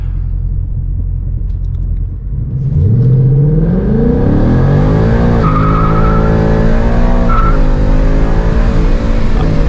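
A car fitted with a Corsa cold air intake accelerates hard through a 0-60 run. The engine roar swells and climbs steadily in pitch, loud and close, with no one talking.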